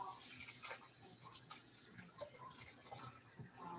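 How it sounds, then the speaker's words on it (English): Hands rinsed under a running kitchen tap, a steady hiss of flowing water with small splashes as the hands move through the stream, close and continuous with no talking. "So let me get my hands a rinse."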